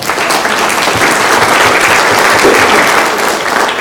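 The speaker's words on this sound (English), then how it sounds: "So give yourselves a round of applause." A crowd applauds at a Lions Club Melvin Jones Fellow awards presentation, loud, sustained and dense, many hands clapping close together with no breaks.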